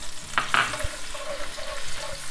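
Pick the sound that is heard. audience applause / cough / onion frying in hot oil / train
onion frying in hot oil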